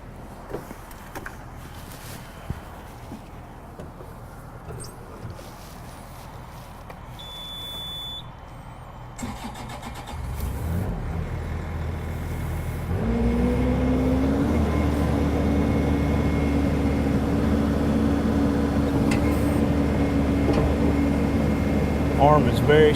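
2014 Bobcat E42 compact excavator starting up: quiet idle ambience with a brief beep, then the diesel engine cranks and catches around ten seconds in, settling into a steady, loud, close running drone for the rest.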